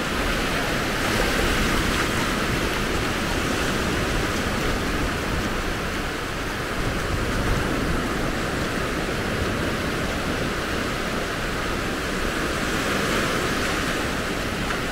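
Waves break steadily on the beach at Maspalomas, Gran Canaria, a constant loud roar of surf with some wind buffeting, unbroken for the whole stretch and with no speech.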